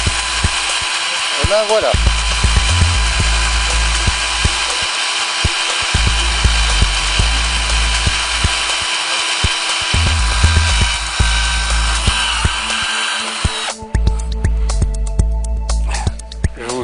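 Small holes being drilled with a power drill while building a quirky homemade invention, loud steady drill whirring in repeated bursts with brief pauses, and a voice speaking briefly near the end.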